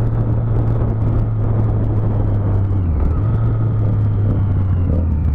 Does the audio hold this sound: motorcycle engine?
yes